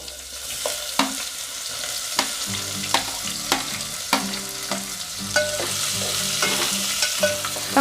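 Onion frying and being stirred in a pan while making spicy misal pav, with a steady sizzle broken by repeated scraping strokes of the spoon. It sounds close and continuous, with no talking.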